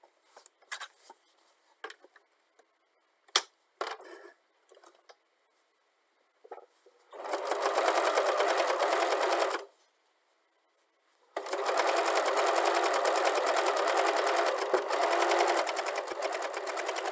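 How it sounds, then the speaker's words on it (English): A sewing machine straight-stitches fabric strips for a patchwork pouch, opening with scattered clicks of handling the fabric, then a loud, steady close-up whirring run of about two seconds, a pause, and a longer unbroken run. "I'm going to straight stitch right along this edge."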